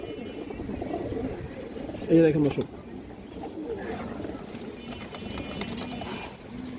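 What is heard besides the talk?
female pigeon cooing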